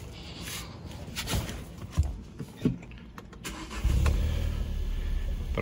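A car's engine is cranked and catches after its AGM start-stop battery has been replaced, with a few clicks and thumps before the engine settles into a steady, moderately quiet idle.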